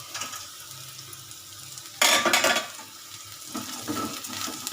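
Bitter gourd fries in a pan with a soft crackling sizzle, broken by a sudden louder burst of spattering midway that settles back into gentle frying.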